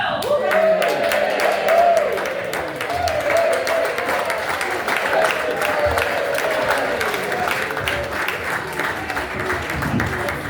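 A village hall audience claps and cheers steadily for comedian Nick Hill taking the stage, a dense, sustained wash of applause with whoops and raised voices mixed in throughout.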